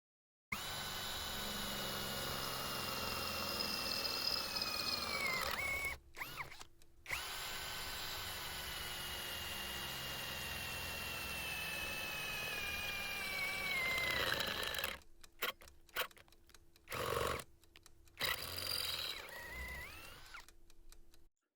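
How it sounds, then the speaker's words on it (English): A Parkside 12V cordless drill on a 2.5 amp battery bores into 3mm-thick sheet metal, a loud sustained whine that dips in pitch under load, breaks off briefly, then resumes before several short stop-start bursts. "I want to try drilling into this sheet of metal"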